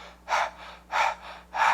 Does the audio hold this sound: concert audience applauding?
no